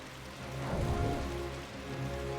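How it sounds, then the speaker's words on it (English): Rain falling in the video game Final Fantasy XII, a steady soft hiss of downpour that swells slightly midway and holds at a low, even level. "Oh no, it's raining now."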